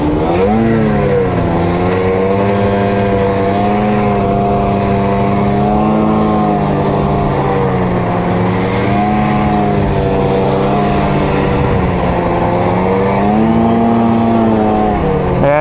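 An Arctic Cat Riot 8000 snowmobile engine runs under steady throttle, a loud, close, continuous drone whose pitch dips and rises as input changes, alone with no talk throughout.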